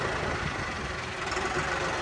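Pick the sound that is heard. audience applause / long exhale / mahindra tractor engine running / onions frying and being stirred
mahindra tractor engine running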